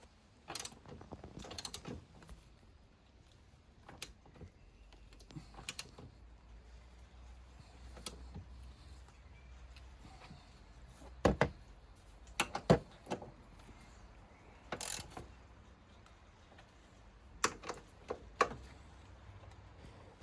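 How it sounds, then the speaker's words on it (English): A ratchet spanner tightening coilover suspension bolts on a BMW M140i, heard as scattered bursts of quick metallic clicks and ratchet snaps over quiet workshop background, close by and fairly soft. "go ahead and tighten those up properly with a ratchet spanner"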